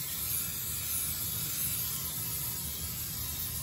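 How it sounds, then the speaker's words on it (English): A steady, continuous hiss of Pam cooking spray being sprayed into a cake pan for a heavy whipping cream pound cake, close and unbroken for several seconds. "Shake this here up, spray that pan good."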